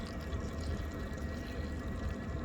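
Two cups of water poured with powdered pork stock over two cups of instant rice: faint, continuous liquid trickle and splashing, close and quiet, with no talk.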